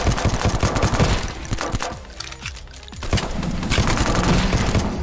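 Rapid machine gun fire from a VR arcade shooting game, dense bursts of rattling shots that drop briefly near the middle and then resume, loud and close with no talking.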